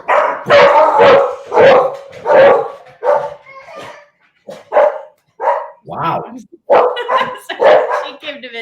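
Several dogs bark repeatedly in quick bursts, loud and close, over someone talking, with a few yips and whimpers mixed in.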